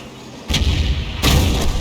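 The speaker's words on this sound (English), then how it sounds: "Taken out by Arty with a shotgun at close range." Artillery fire from an Object 261 self-propelled gun striking a wheeled tank at close range in a tank battle game: two heavy booming blasts about 0.75 seconds apart, loud and close, each with a long rumbling tail.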